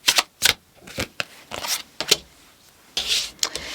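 Tarot cards are shuffled by hand in a quick series of crisp riffling bursts and soft slaps, close and clear, with short pauses between them and no voices.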